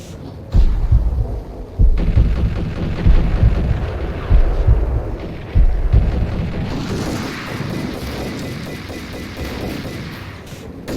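Grenades go off in a video game as a series of heavy, booming blasts, about six thumping explosions in rhythmic succession over the first half, then fading into a rumbling, noisy wash of battle sound.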